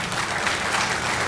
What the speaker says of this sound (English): I think we should have a round of applause for that